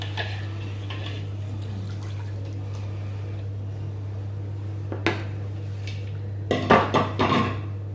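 Minced meat being stirred in a pan for a spicy sauce, with faint scraping and clinks of a utensil against the pan, a few louder knocks near the end over a steady background hum.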